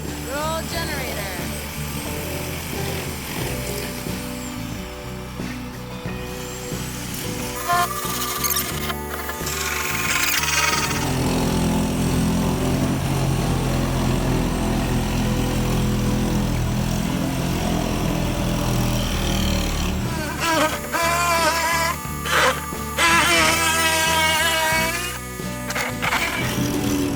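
Portable generator running at an off-grid cabin build site, a steady low rumbling drone that holds through the whole stretch, close and fairly loud, with people talking over it and intermittent clattering work noises.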